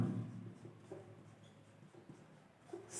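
A pen scratches out an algebra equation on paper, with soft, faint, irregular strokes and taps spread across a few seconds in a quiet room.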